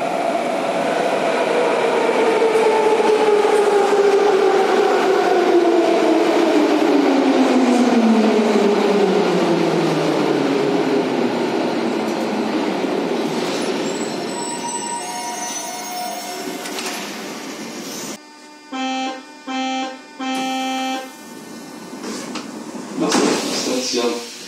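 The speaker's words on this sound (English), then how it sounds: "one of the best DC resistor start sounds I've ever heard" An old DC resistor-control metro train's motors whine in falling, sliding tones as it runs, then rattles and clunks with squeals and rhythmic mechanical bursts near the end.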